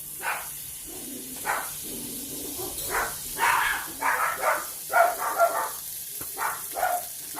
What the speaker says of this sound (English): Sorry for all the dogs barking.